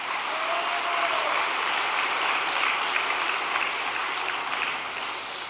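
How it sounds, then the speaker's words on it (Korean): Sustained applause from a church congregation honouring leaders of a long vigil devotion, dense and steady clapping filling the hall before tapering off at the end. "이 정성의 탑을 쌓으신 모든 분들께 감사의 박수 한번 보내주시기 바랍니다"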